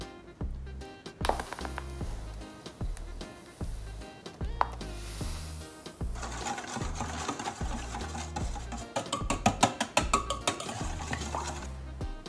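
Cinnamon scroll dough being mixed with egg yolk and melted butter in a bowl: rhythmic thumping and scraping strokes, close and fairly quiet, continuing unevenly throughout with no voice.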